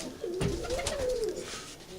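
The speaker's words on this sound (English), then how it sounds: "these are performing birds" A performing pigeon gives a low, wavering coo, close and clear over a faint airy background.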